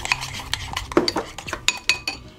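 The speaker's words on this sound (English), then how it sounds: "Stir it up." Turkey meatloaf mixture stirred in a bowl with a utensil, giving a run of close, irregular clinks and scrapes against the dish over a couple of seconds, with no talking.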